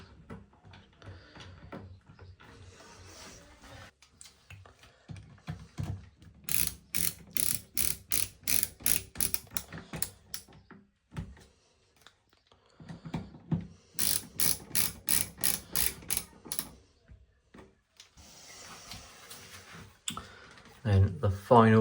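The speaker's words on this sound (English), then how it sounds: "Get our trusty screwdriver to put these little screws in" Rapid ratcheting clicks from a hand screwdriver driving small screws into a cover, coming in two long bursts of steady clicking separated by quieter handling noise.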